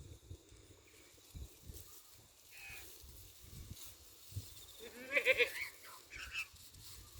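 Goats on a farm, a nanny and her young kids, with a few short bleats and calls near the middle amid quiet outdoor rustling and low thumps, fairly faint.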